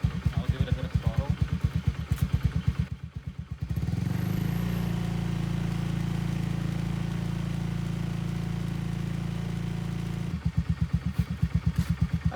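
A Honda Scoopy scooter engine idles with a steady, close putter, then settles into a smoother, fuller hum after a light blip of throttle before dropping back to a rhythmic idle.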